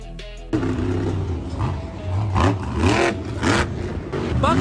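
Bakugan Dragonoid monster truck, a fire-breathing warrior-themed stunt truck, revving its engine hard on a show track, with loud roaring surges rising and falling in repeated bursts.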